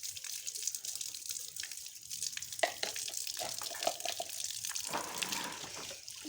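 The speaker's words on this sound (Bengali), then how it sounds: "ব্রাশ করা হয়ে গেছে, তো এখন আমি মুখটা ধুয়ে নিচ্ছি।" Tap water runs steadily while someone washes their face after brushing their teeth in the morning, a continuous close splashing rush with small irregular splashes and no talking.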